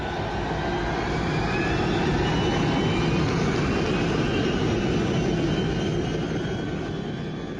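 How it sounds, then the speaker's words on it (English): A loud, continuous jet engine roar with a rising whine from a KLM Boeing 747 accelerating down a runway for takeoff, steady throughout. "The huge KLM 747 now began accelerating down the runway."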